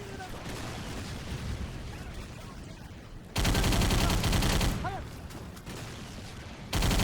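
A war video game mission erupts in bursts of rapid gunfire, a loud sustained volley cutting in after quieter ambience, with further shots resuming at the end.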